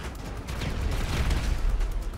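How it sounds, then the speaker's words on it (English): Explosions and gunfire during a GTA 5 race: a loud, continuous low rumble of booms with a steady crackle of shots layered on top, and no voices. "All I can hear is frigging explosions."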